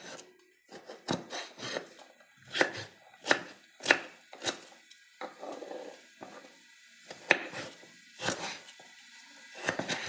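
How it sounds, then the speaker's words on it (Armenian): A knife chops potatoes on a board in a home kitchen in Greece. Steady, uneven strokes land in quick clusters with short gaps, crisp and close, with no talking. "կարտոֆիլն էլ կտրտենք, պատրաստենք"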